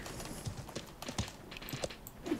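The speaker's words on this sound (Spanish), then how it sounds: "voy a sacar el caballo" Horse hooves clip-clop in a war-themed medieval video game, several soft uneven steps at moderate distance over a low rumbling game backdrop.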